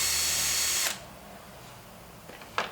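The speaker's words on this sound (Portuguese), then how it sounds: "Então agora nós vamos dar um pequeno furo no lugar diferente," A power drill bores a small hole during assembly of a clothes hanger rack, a high whirring burst close up that stops abruptly, followed by quiet and a brief second whir near the end.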